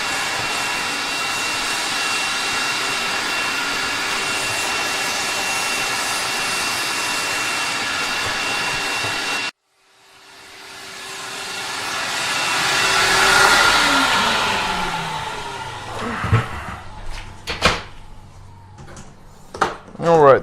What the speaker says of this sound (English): I should get the vacuum and go ahead and vacuum that